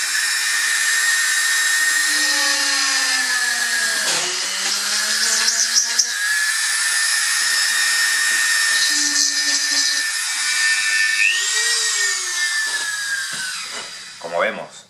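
A high-pitched rotary tool whines continuously, its pitch dipping and rising as it drills through a small Lego piece, with brief pauses near the end.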